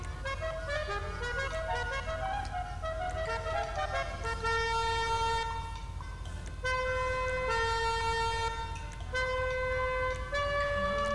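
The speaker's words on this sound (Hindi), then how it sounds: "ओ गाइस ये तो हॉर्न है, देखो कौन सा मस्त है।" Assorted vehicle horns tested one after another, producing loud sustained tonal honks with shifting pitches, some melodic, over a steady low hum.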